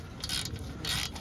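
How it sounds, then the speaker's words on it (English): A hand ratchet tightens starter bolts on a 2010 GMC Acadia, with two short bursts of quick metallic clicking, close up. "now I'm going to grab my ratchet"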